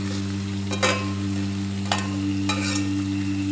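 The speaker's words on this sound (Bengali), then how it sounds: "টমেটো কুচি দিয়ে আবার একটু নেড়ে চেড়ে নিলাম।" Chopped tomato sizzles steadily in a hot pan while a spatula stirs it in three short, scraping bursts. A constant low hum runs underneath.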